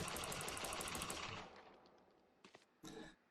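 Classic pistol primary fire in the video game Valorant, a fast string of sharp cracks that fades out, followed by two separate short shots, heard alone without talk.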